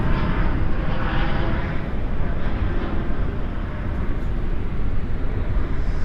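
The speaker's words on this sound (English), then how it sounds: "Spoilers up, reversers out on this E175." At night at Dallas/Fort Worth, an Embraer E175 lands with spoilers up and thrust reversers deployed, producing a loud, dense, unbroken roar throughout, with no speech.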